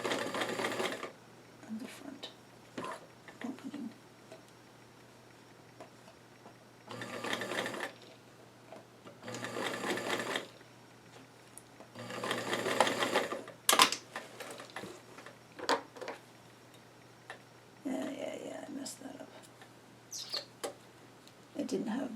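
A sewing machine stitches doll-sized jeans in several separate bursts of rapid mechanical whirring, with quiet gaps between runs and a person talking at times in between.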